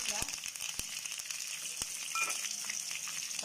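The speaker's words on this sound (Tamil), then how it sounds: "பாருங்க, ஒரு பாத்திரம் வச்சு நான் இதில் கடுகு" Mustard seeds crackle and sizzle in hot oil in a pan during tempering for a chutney, a steady close frying hiss with a few sharp pops, no talk.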